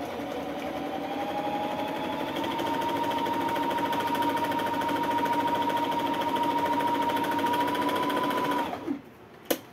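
A Toyota Sewie 30 sewing machine runs a steady semi-edging stitch, a loud continuous whirring hum with fast rhythmic clatter that holds for nearly nine seconds before stopping abruptly, followed by a couple of faint clicks.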